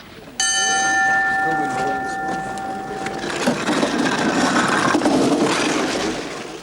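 Start bell at the Cresta Run toboggan track in St. Moritz rings out sharply with a bright, sustained metallic tone for about three seconds, then gives way to windy outdoor noise and faint voices.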